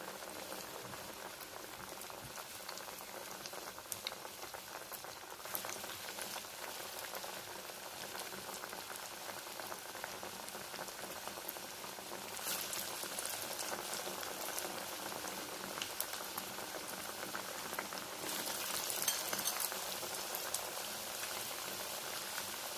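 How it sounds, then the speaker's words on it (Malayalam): Continuous bubbling and crackling of cabbage vada deep frying in hot oil, a steady hiss that grows a little louder toward the end, no voices. "ഇതാ നമ്മൾ വറുത്ത് കോരിയിരിക്കുകയാണ്"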